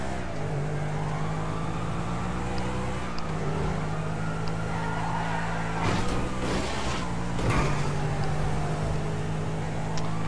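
Car cruising along a motorway in GTA V, a steady engine drone with a constant hum throughout and a couple of brief louder swells, no talk over it.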